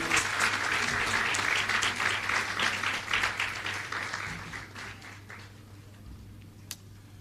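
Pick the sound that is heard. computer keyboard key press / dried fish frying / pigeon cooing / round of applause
round of applause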